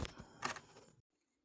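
A Canon R5 mirrorless camera runs its sensor cleaning, a faint close-up mechanical buzz and rattle lasting about a second before cutting to near silence.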